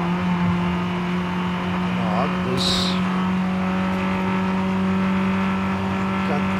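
A 2021 MG MG6 XPower races a lap in Forza Horizon 5, its engine holding a loud, steady drone at high speed throughout, with a brief spoken word over it.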